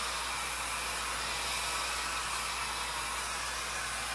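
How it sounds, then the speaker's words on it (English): A hair dryer blows steadily and loudly throughout while drying a malamute's damp coat, a constant airy rush with no breaks. "it just takes forever with a regular hair dryer"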